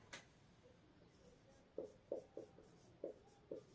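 Chalk writing on a classroom board during a Hindi history lesson: after a faint opening tap, a run of six short, sharp chalk strokes comes at an uneven rhythm, close by and fairly quiet, with no speech.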